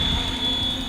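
A Flywing 450 V3 RC helicopter, flown after repair and an ESC replacement, gives off a steady, high-pitched electric whine with a constant rotor drone. The sound is loud and close and heard alone.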